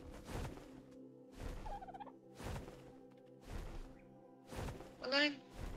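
A bird in the video game ARK, heard during an Arctic trek, makes a few short warbling, gobbling calls, faint and close, spaced between repeated soft whooshing beats.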